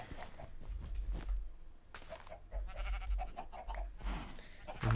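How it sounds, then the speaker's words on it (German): Minecraft sheep bleating in several short nasal calls at close range, spaced across the stretch with faint game noises between them. "ist schon wieder ein Schaf drin"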